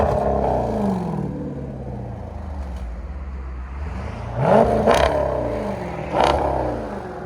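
A 2020 Jeep Grand Cherokee SRT with a 6.4L HEMI V8 and a Borla Atak cat-back exhaust idles with a deep rumble, then gives two sharp, loud revs with a roaring burble between them.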